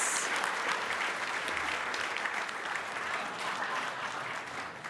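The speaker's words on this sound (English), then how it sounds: "how about a round of applause for all of our Indigenous business" Audience at an ethnic business awards night applauding the Indigenous business finalists, dense steady clapping filling the hall throughout and easing slightly toward the end.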